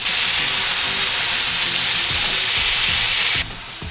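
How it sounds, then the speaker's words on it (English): New York steak sizzles in oil in a frying pan, a loud steady crackling hiss that drops away abruptly near the end. "And you want to hear the sizzle."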